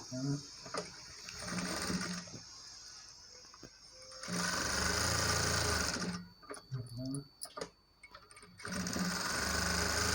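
An electric sewing machine stitches the sleeve of a readymade blouse in loud, close bursts, whirring for a few seconds at a time and then stopping, with a voice speaking during the pauses.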